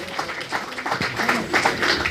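Scattered audience applause follows a soprano's song at a book launch event in Daegu, a moderate patter of hands clapping that builds slightly and continues without any voices.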